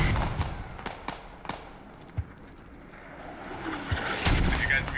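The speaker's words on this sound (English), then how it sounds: "Mortar landed on the mortar" Mortar rounds and explosions in the tactical shooter Squad, heard as several dull thumps and booms scattered through the clip, with a heavier blast near the end, over steady battlefield ambience.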